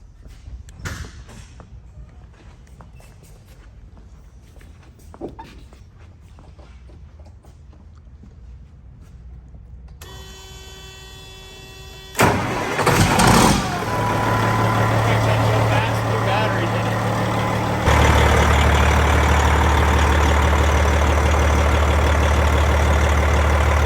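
A cabover truck's engine cranks over and catches, then settles into a loud, steady idle that deepens and grows heavier a few seconds later, after a quieter stretch of faint workshop clicks.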